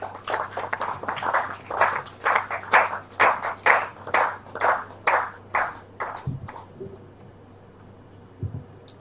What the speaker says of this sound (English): Please welcome Miss Michelle with a round of applause to deliver a reflection.